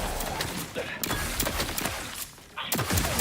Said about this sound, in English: Let's try the plasma gun.